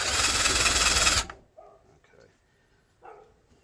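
A drill bit bores into a homemade carburetor adapter for a V6 in one loud, harsh whirring burst of about a second. It stops abruptly, leaving near silence with brief faint sounds.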